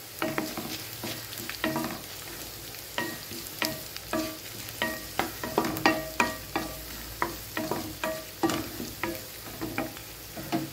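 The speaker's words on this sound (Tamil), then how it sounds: "இப்போ பூண்டு வெங்காயம் 1 நிமிஷம் நல்லா வதங்கிக்கட்டுங்க." Garlic, onion, curry leaves and two dried red chillies sautéing in a pan: a soft sizzle under a rhythmic series of spatula scrapes and taps, repeating every half second or so.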